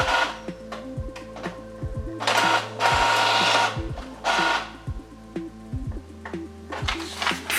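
An Epson Wi-Fi printer without a screen prints pages remotely, with whirring feed motors, mechanical clicks and repeated louder sweeping passes of the print head in close, uneven bursts.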